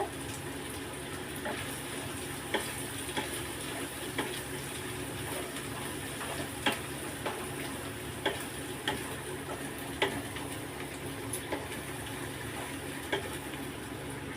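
Masala of Kashmiri chilli powder and turmeric stirred in a frying pan for a whole lote fish curry, a soft continuous sizzle with faint, evenly spaced ticks and scrapes of the spoon.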